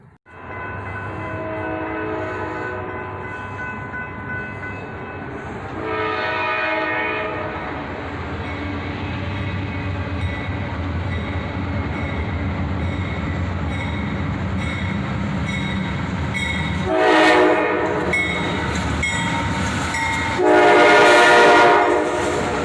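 A southbound freight train led by an old AC-44CW locomotive rolls past with a loud, rising low rumble of wheels and engine, horn blasts sounding midway and again near the end, growing louder as it nears.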